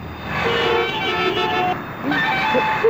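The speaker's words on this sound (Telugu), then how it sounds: "ఇదేం ట్రాఫిక్, ఇదేం రోడ్లు" Busy road traffic hums throughout with several car horns honking, some overlapping, amid a dense close street roar.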